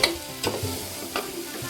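Boiled chicken cooks dry in a dark masala in a pan, sizzling softly while a spoon scrapes through it in three brisk strokes, close and without talk.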